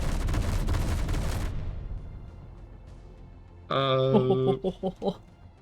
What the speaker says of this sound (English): Whilst the Gatling turrets engage other nearby targets.